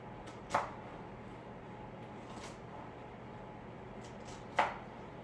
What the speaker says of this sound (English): you want to be sure to cut this extra thinly